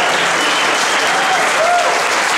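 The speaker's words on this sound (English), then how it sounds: "How about a hand for these cadets?" An audience at a JROTC awards ceremony applauds cadets, giving dense, loud, steady clapping from a large crowd that fills the whole stretch.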